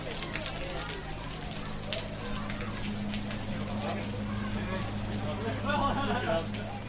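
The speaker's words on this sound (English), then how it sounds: "That was the sound of rain falling at the start of Stage 2." Steady rain falling at the start of a cycling race stage, a dense continuous patter with a low engine-like hum beneath and faint voices in the background throughout.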